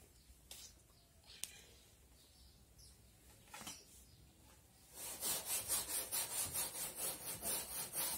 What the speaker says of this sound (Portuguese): Vou misturar tudo esse bicarbonato no sofá inteiro e vou esfregar